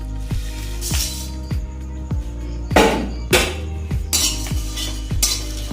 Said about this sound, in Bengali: এইগুলো সব একসাথে একটু আমি শুকনো খোলায় ভেজে নেব